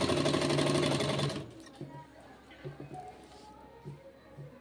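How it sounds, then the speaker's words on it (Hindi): An electric sewing machine runs fast and loud for about a second and a half as it stitches folded suit fabric, then stops, leaving a quiet room with faint soft handling noises. "ऐसे जो है सिलाई लगाते जाएं"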